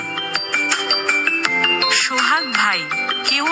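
A custom name ringtone plays from a phone, a bright synthesized melody of ringing tones and gliding vocal-like notes, loud and continuous throughout.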